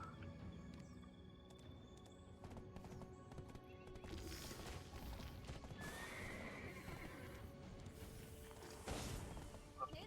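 Horse hooves clop steadily and a horse neighs in the fantasy game Black Desert, with clattering game effects layered around the quiet, rhythmic footfalls.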